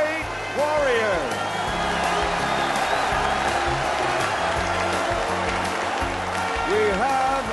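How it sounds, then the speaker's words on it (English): Crowd applause and cheering fill a boxing arena after a heavyweight bout, a steady dense roar of clapping with whoops rising over it throughout, while voices carry underneath. "a round of applause for these two heavyweight warriors"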